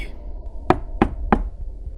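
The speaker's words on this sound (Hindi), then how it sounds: "उसके कमरे की जमीन से खटखट की आवाज आ रही थी" Three sharp, evenly spaced knocks rise from beneath the floor of a room in an animated haunted-mansion horror tale, each a hollow thud over a faint low rumble, close and distinct against near silence.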